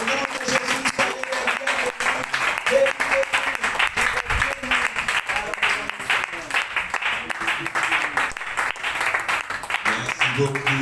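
A church congregation applauding an apostolic couple, a sustained wash of clapping from a crowd filling the whole stretch while a voice speaks over the applause.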